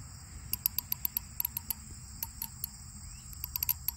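A cricket on a prairie chirps in quick, sharp, high-pitched pulses, some in tight clusters, over a faint low background rumble, fairly close and with no talking.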